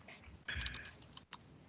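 Keyboard typing heard faintly on a remote call, a short burst of clattering keystrokes with a few isolated key taps and no voices.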